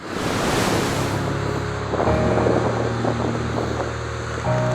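Ocean surf rolls steadily onto the beach of Pedragulla on Portugal's rugged coast, along the fishermen's hiking trail between Arrifana and Carrapateira. The wash is continuous and fairly loud, mixed with gusty wind buffeting the microphone, and no one speaks.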